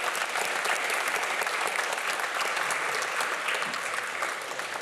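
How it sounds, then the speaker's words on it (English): Sustained audience applause at the close of a talk on augmented reality, sport and gaming at the Great Exhibition Road Festival, a dense, steady wash of many hands clapping that fades slightly at the end. "let's have one last round of applause for our fantastic speakers today"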